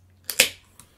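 A beer can cracked open for a review, giving a short sharp pop and hiss followed by a faint fizz, close and loud against a quiet room.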